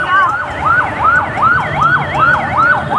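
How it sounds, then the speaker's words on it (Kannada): A fire engine's wailing siren sweeps up and down in a fast repeating cycle, loud and close, beside a fire that broke out near the Mysuru Dasara lightings, with faint traffic rumble underneath. "ಅದಕ್ಕೆ ಫೈರ್ ಇಂಜಿನ್ ಬರ್ತೈತೆ."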